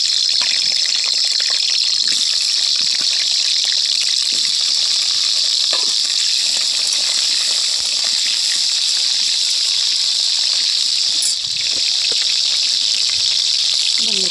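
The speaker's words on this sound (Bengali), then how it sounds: "আলুগুলো একটু ভাজা করে নেব।" Small potatoes sizzle in hot mustard oil in a pan over a wood-fired clay stove, a steady loud bright hiss with occasional pops and crackles throughout.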